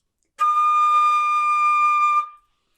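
A single sustained high D on a flute, clear and steady, held for about two seconds before stopping cleanly.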